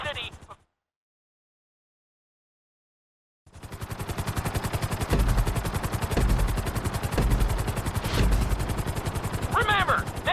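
Helicopter in Grand Theft Auto V racing a flight-school obstacle course around the city, with a steady loud rotor and engine drone after a long silent gap, punctuated by a few sharper thumps.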